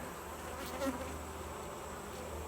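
Honey bees buzz steadily around an open Layens hive during an inspection, a soft, continuous hum with a slightly louder pass near the start.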